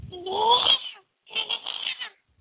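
A person's voice imitating an armadillo, giving two drawn-out, whiny, cat-like squealing cries separated by a short pause, close and fairly loud.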